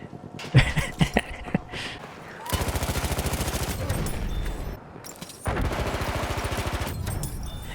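Hip-fired automatic gunfire in Battlefield 1: a few sharp isolated shots, then two long sustained bursts of rapid fire with a brief pause between, loud and close.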